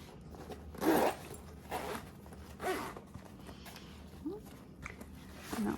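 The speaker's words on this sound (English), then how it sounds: "you can go ahead and unzip your zipper." A zipper on a sewing project is unzipped in several short, distinct pulls, each a crisp ratcheting rasp separated by pauses, close and clear in a quiet room.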